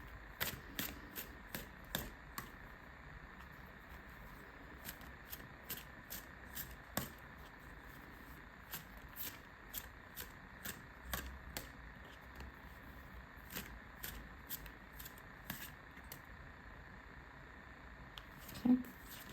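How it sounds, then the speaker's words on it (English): Tarot cards shuffled by hand during a pick-a-card reading, a quiet run of soft riffling snaps and taps at an uneven rhythm, close and alone with no talk. "I'll be keep shuffling."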